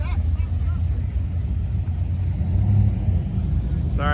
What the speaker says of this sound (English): Oh, there's a burnout.